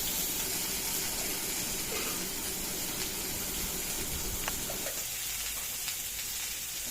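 Thuthuvalai leaves with turmeric sautéing in a pan, a steady faint sizzle and crackle of frying that continues without pause, with small stirring clinks.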